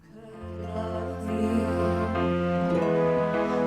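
A single fades in and swells into a sustained opening passage, with warm held tones building gradually and no voices.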